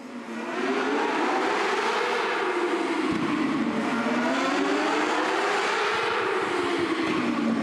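Non-winged mini sprint race cars scream around an indoor track, their engines rising and falling loudly and continuously as they pass close by, with no talk over them.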